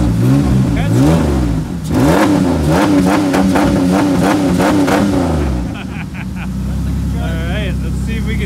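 A Ford Explorer engine held wide open for a burnout, loud, near, sustained revving with a rhythmic throbbing roar that drops to a lower idle toward the end, with people talking over it.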